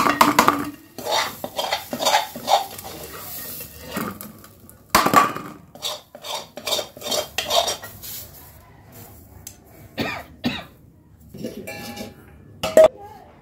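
Cooked pea filling for koraishutir kochuri being spooned and scraped from a pan onto a plate, giving repeated metal-on-metal clinks and scrapes in an uneven rhythm, close and fairly loud, with brief pauses between strokes.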